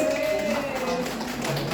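An audience at a teachers' seminar claps for a school leader, a dense, steady patter of hands lasting under two seconds with a faint sustained musical tone underneath.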